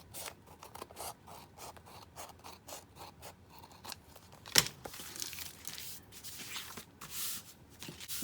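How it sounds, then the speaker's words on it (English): A series of quiet, crisp scissor snips trimming a journal cover in a quick rhythm, followed by some rustling and scraping, close and faint. "Now I'm gonna go ahead and cut up the sides of this. I have my scissors somewhere here."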